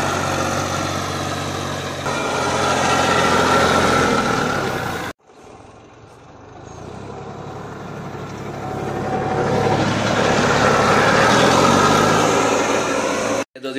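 A tractor engine runs while moving waste, a steady mid-low rumble that cuts out abruptly midway, then returns and builds before stopping again.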